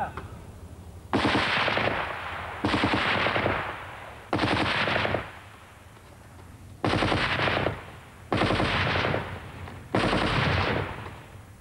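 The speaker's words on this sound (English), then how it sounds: "The Vickers, a medium machine gun solidly mounted on a tripod and fed by a belt of ammunition" Vickers medium machine gun, tripod-mounted and belt-fed, fires six sustained bursts of roughly a second each, loud and close, separated by short quiet gaps.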